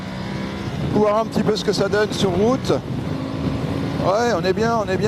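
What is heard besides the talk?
Aprilia Tuareg 660 motorcycle accelerating on road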